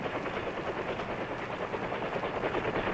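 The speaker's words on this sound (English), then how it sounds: "Often within minutes, air rescue helicopters are at the scene searching the area." An air rescue helicopter in a war setting thrums with a steady, loud rotor chop, a continuous pulsing beat filling the whole stretch with no voices.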